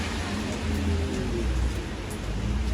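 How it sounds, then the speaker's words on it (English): Steady rain falls outside as a dense, even hiss of drops, constant and moderately loud with no voices over it. "Yeah, it's been raining this entire time."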